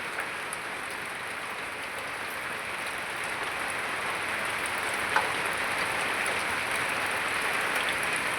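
A heavy downpour falls on the way from Gondal to Rupavati, a steady, even rush of rain that never lets up, with one brief knock partway through and no voices.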